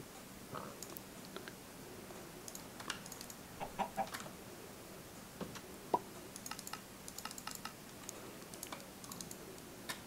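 Lava chickens in modded Minecraft, faint scattered clucks mixed with quiet clicking keyboard typing, low and sparse throughout without talk.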